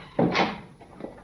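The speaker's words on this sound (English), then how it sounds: "Please, would you close that door" A door swings and bumps shut in an old radio drama set in a hospital: one fairly close sliding creak and thud, then a softer knock, with no talking.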